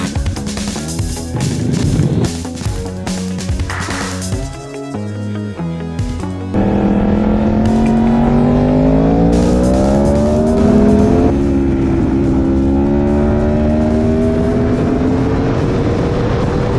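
Motorcycles run on the Parcmotor race track in Spain during brake pad testing. Music plays at first, then a loud, close engine drones and climbs in pitch through the gears and holds high under acceleration.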